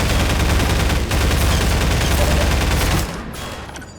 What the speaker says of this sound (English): This is what I mean by the assault rifle having no accuracy.